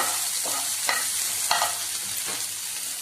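Moringa leaves lightly dry-roasting in a pan, with a steady soft sizzle and a few scraping stir strokes around one, one and a half and two and a half seconds.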